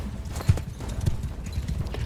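Rhythmic clip-clop of horse hooves galloping in the video game Mount & Blade 2, low thudding beats at a steady pace, close and moderately loud over faint battle ambience.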